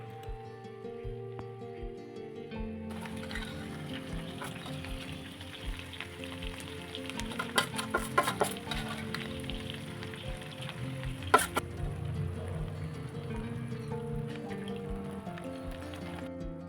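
Marinated spice paste going into catla fish in a hot pan, a soft steady sizzle and frying crackle with occasional sharper pops and spatters.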